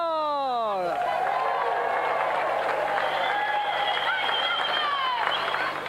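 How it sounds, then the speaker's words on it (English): A TV game show studio audience applauds and cheers loudly and steadily for a competitor after a falling tone, with dense clapping filling the whole stretch. "let's have another round of applause for our gallant competitor, Jamie Spencer!"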